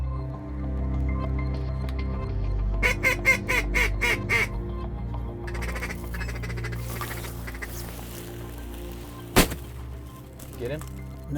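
Shotgun blasts during a foggy Nebraska waterfowl hunt, several sharp reports among rapid duck calls and quacking, one loud close shot standing out near the end, with people talking around the calls.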